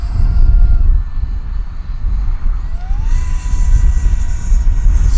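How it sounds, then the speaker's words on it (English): A steady high-pitched whine of a small, poorly balanced electric ducted-fan jet on an RC MiG-17 with a 50mm fan drones over wind rumble, its pitch rising partway through. "That EDF does not sound like it's very balanced either."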